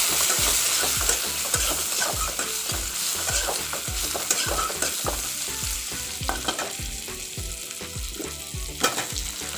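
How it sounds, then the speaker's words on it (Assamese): Bitter gourd and vegetables frying in a pan on a gas stove, a steady sizzle under repeated scraping stirs of a spatula in a regular rhythm, close and continuous with no talking. "অকণমান ভাতকেৰেলাখিনি ভাজি ল'ম আৰু গেছটো কমাই দিছোঁ।"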